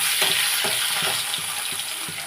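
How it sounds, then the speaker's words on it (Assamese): Fish frying in a shallow layer of oil, a steady close hiss of sizzling with soft periodic stirring or turning knocks about every half second, no voices. "তেলটো অলপ কম হৈ গ'ল দিওঁতে, গতিকে মাছ অলপকৈ ভাজিব লাগিব"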